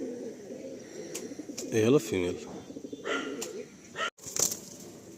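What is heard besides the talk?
pigeons cooing at a pigeon loft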